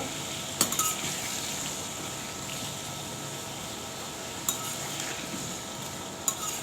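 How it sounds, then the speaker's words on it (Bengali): Food frying with turmeric in a pan: a steady, close sizzle runs throughout, broken by three brief metal clinks of a spoon against the pan as it is stirred. "এখন হলুদের সাথে মিশে নিব সুন্দর করে একটু ভেজে নিব"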